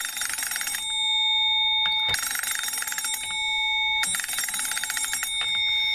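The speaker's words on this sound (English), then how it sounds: "Position 2 rings the antique telephone bell." A loud, bright mechanical bell rings in three long trilling bursts separated by short pauses, heard on its own.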